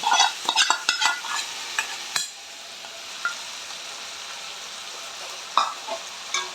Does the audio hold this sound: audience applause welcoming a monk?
no